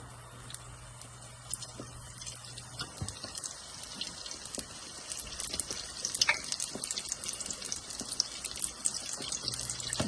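Vetkoek dough deep frying in oil that is not too hot, a steady bright sizzle and crackle of bubbling fat with scattered pops, continuous and fairly close, with a low hum underneath.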